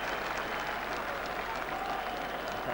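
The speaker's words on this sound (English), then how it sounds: "The crowd still buzzing with excitement after that spectacular opening try of this match." Rugby crowd at the 1979 John Player Special Cup Final between Moseley and Leicester applauds a try, steady dense clapping and cheering filling the stands, with voices murmuring through it.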